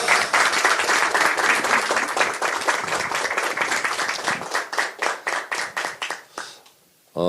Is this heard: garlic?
no